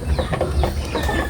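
Farm chickens clucking close by in a short run of overlapping, choppy clucks at a steady moderate loudness, with no voices.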